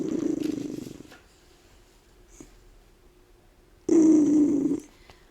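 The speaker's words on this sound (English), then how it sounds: "She is still growling." A cat growls in low, rumbling bursts close by in a quiet home, one stretch at the start and another louder one a few seconds later, with near silence between.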